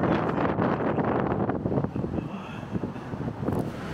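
Strong gusting wind buffets the microphone at the top of Blackpool Tower, a loud roaring rumble that swells and eases in waves throughout.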